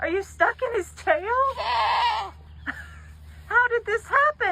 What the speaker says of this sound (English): Did you hear the one about the goat that got tangled in a horse's tail?